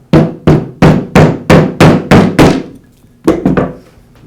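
A rubber mallet strikes a Porter Cable router motor housing, eight evenly spaced sharp knocks followed by a pause and three quicker taps, loud and close with no talk.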